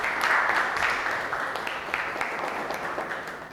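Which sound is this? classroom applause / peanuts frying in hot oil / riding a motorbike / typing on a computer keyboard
classroom applause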